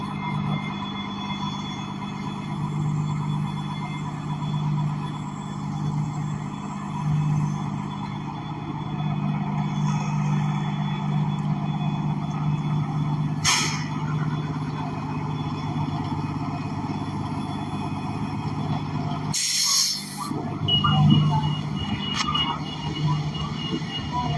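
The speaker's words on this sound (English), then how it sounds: "let me hop on this bus real quick" Continuous bus engine drone while riding through traffic, steady and close, with a sharp hiss of air brakes near the end and a short burst just before; faint talk at times under the rumble.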